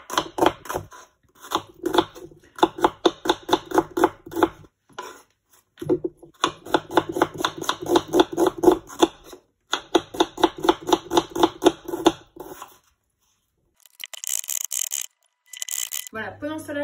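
Onions chopped finely with a knife on a board, quick rhythmic bursts of rapid knife taps in several runs separated by short pauses, close and crisp, with brief other handling noises near the end.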